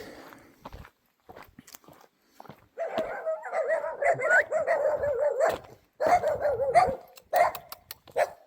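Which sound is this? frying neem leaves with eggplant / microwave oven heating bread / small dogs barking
small dogs barking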